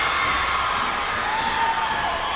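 Students in a packed high school gym crowd cheer and shout during a 1988 state semifinal basketball game between Williamson and Midland Trail, a steady dense roar with no gaps.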